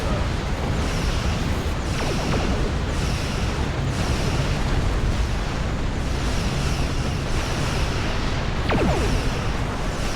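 Starship weapons firing in the space combat game Star Trek Online, a dense steady roar of bursts and booms with periodic pulsing volleys, loud and continuous throughout.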